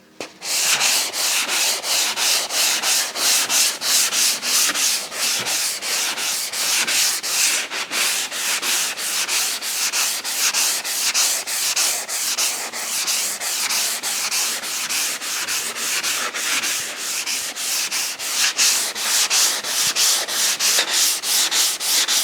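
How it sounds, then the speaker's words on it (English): Hand sanding the bodywork of a classic Chevy in an X pattern, a steady, loud, rasping scrape with rapid back-and-forth strokes that continues for over twenty seconds without talk. "try and get as much of a consistent pattern of sanding across the car as you can"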